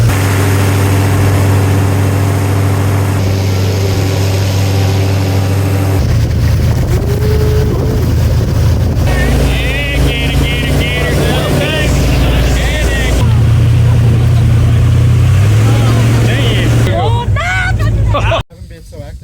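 A loud airboat engine roars steadily through an Everglades boat tour, its droning hum shifting in pitch now and then, with people talking over it throughout and the noise cutting out abruptly near the end.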